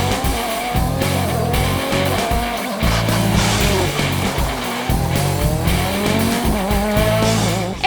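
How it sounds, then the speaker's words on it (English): FIA World Rally Championship cars racing on tarmac roads through vineyards in Germany, engines roaring and revving loudly with tire squeal and skidding, near and continuous with shifting pitch. "the roar of rally cars will fill the air this weekend"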